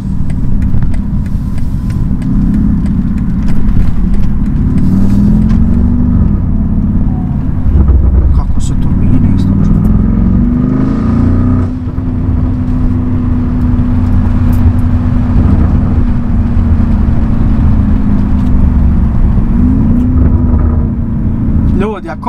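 A BMW X6 M50i on German streets gives a steady, loud engine and exhaust drone from inside the car, with wind buffeting the microphone and slight rises and dips in pitch as it drives.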